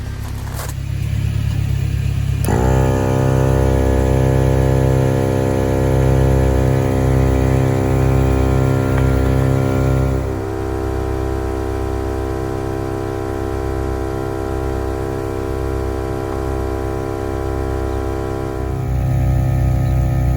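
A Viair 300P portable air compressor runs loud and steady off a battery, with a strong motor hum and rapid pump chatter that shifts pitch partway through. No one talks over it.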